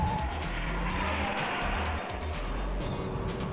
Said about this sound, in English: surprisingly, it picks up speed so well.